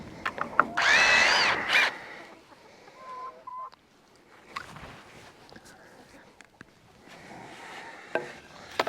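Power drill driving screws into a 2x4 board while building a chicken tractor, a short loud whirring burst at the start followed by faint tool sounds, with chickens clucking and a voice nearby.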